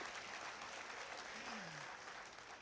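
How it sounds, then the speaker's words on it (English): Audience applause at a talk by a musician, a steady broadband clapping wash that holds across the whole stretch and thins slightly toward the end, with a faint voice underneath. "now you all can clap."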